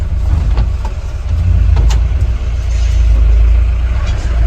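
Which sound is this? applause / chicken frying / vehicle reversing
vehicle reversing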